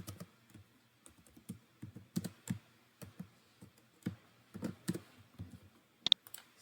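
Computer keyboard typing Java code for nested loops: quiet, irregular keystrokes in short bursts with pauses between them, fairly close, plus one sharper click near the end.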